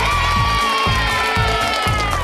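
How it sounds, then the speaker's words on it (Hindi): Children cheer and clap in a cartoon classroom scene, a bright burst of crowd cheering over a pulsing musical beat, steady and loud for a couple of seconds. "चलिए सब चाचा और उसके डैड के लिए ताली बजाते हैं"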